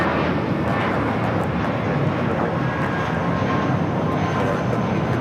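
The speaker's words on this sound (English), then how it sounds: "This is Volaris 1715 taking off to Guadalajara on the A320" A Volaris Airbus A320 taking off from LAX bound for Guadalajara, its engines producing a loud, steady, broadband jet roar that holds level throughout, with no talk.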